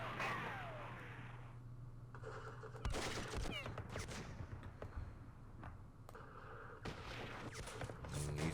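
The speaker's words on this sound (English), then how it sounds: "That's the anti-aircraft machine gun shooting at the tank." An anti-aircraft machine gun in a Vietnam War strategy game fires at a tank, sharp bursts and scattered crackling shots over a low steady hum, with a few louder volleys.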